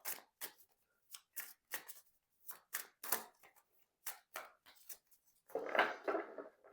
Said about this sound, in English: I'm just going to split the deck to see what's happening